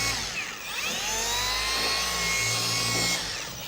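Car paint polisher running with a polish pad during paint correction, a continuous close whirring drone with shifting pitch as the machine works in a crisscross pattern.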